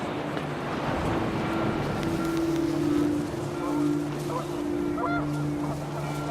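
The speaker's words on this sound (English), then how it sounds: "The wind picked up, and panicked geese appeared and quickly went" Panicked geese in the video game What Remains of Edith Finch, honking in short bursts at middling distance over a rushing wind-like wash, with brief spoken narration mixed in.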